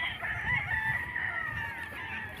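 Chickens and a rooster at a poultry sale, the rooster crowing in a long drawn-out call with hens clucking faintly underneath in a noisy outdoor setting.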